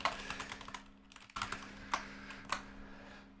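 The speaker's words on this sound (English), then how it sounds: "Typing in with my very loud keyboard." Fast clattering keystrokes on a very loud computer keyboard before a Dungeons and Dragons session, with sharp individual key hits and a steady hum underneath, close and with no talk.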